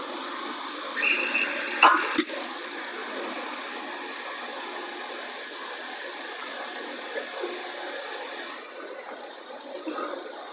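A Mercedes-Benz GLA200 engine idles after running about fifteen minutes, air conditioning not cooling well, with a steady, low rumble throughout and a few brief clicks and knocks near the start.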